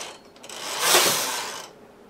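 A knitting machine carriage sweeps across the needle bed for two rows, giving a smooth mechanical swish that builds to a peak and then fades, close by with no voices.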